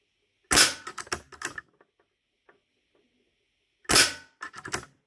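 An Artemis CP2 air pistol firing at a target: two sharp loud cracks about three seconds apart, each followed by quick mechanical clicks and rattles of handling, close by with near silence between.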